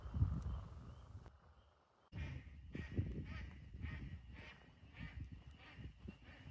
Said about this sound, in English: We keep hearing and scaring these American black ducks